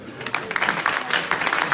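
Scattered applause from a small audience at a tech meetup prize draw, light and uneven claps over 1.8 seconds with some background chatter.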